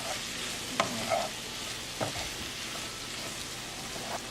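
Shrimp being stirred in a pan with salt, black pepper, red chili flakes and parsley flakes: a soft steady sizzle with a few light scraping clicks of the spoon, close and fairly quiet.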